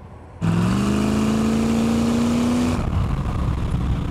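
A Boss Hoss V8 motorcycle engine under way, a loud close drone with a rising tonal whine as it pulls for a couple of seconds, then settling into steady rumbling road and engine noise, with no talk.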